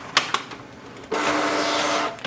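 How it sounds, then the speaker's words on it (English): A Canon Pixma TS7720 printer runs its paper roller cleaning cycle, with a couple of sharp clicks and then a sudden, steady mechanical whir of the rollers turning, close and fairly loud. "So it will clean the roller and it will pick up the paper correctly."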